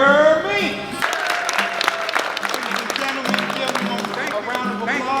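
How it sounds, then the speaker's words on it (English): Audience applause welcoming the host of a show at a CDCR facility, moderate clapping that starts after a voice and continues steadily under speech with music in the background. "A round of applause"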